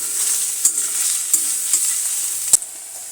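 Grated carrots for gajar halwa stirred and roasting in a pan, a steady high sizzle broken by four sharp spoon scrapes against the metal, close and alone with no talk.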